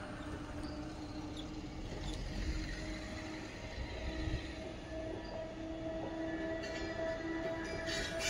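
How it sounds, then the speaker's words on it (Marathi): An express train rumbles past a railway crossing, wheels rolling over the rails with a continuous low roar and faint metallic squeals. "रेल्वेचं फाटक आहे. रेल्वे आली"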